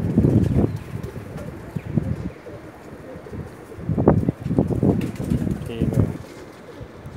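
Teddy pigeons coo in soft, low, throaty bursts that repeat near the microphone. Wind buffets the mic and someone speaks briefly.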